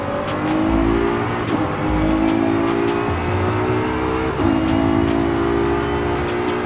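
Twin-turbo GT race car engine in the Forza racing game roars loud and close, revving hard with repeated rising pulls, brief drops for gear shifts and a burst of tire squeal, with no talking.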